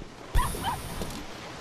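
Dog in The Cave video game reacting to a bone, a short whimpering yip or two heard close and fairly faint over a low background.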